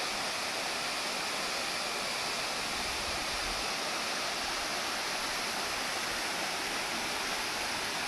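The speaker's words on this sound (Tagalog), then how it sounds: "Ang ganda ng falls." Junuan Falls, a waterfall set among rock formations in the province, gives a loud, steady, broadband roar of rushing water that stays even from start to finish, with no voices.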